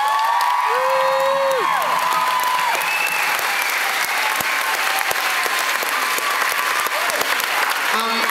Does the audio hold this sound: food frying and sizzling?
no